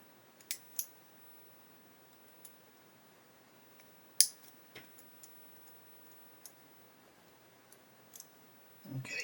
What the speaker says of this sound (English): Now, with some of these you can just snap them off, as you can see. They can just snap off.